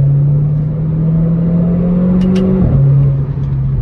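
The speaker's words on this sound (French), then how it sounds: "Je vais mettre un bruit, vous entendez un peu le moteur." A Renault Clio 4 RS Trophy engine with a full straight-through exhaust holds a steady low drone, its pitch wavering and briefly shifting partway through, loud and close with no talking.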